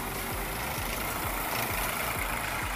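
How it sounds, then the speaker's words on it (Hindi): A tractor-mounted groundnut digging machine runs steadily in a field, its heavy engine droning continuously with a low, regular knocking pulse, loud and close with no talk over it. "ये ट्रैक्टर वाला जो मशीन है ये"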